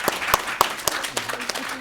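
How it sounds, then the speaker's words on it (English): Applause from a conference audience for panelists, fairly sparse and moderately quiet, with individual claps standing out irregularly over a short stretch. "I want to give our panelists that remain a round of applause"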